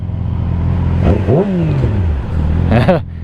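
Close, loud revving of a Yamaha R6 motorcycle or Nissan 370Z engine: an idle rises into two sharp throttle blips that climb and fall, with people talking in between.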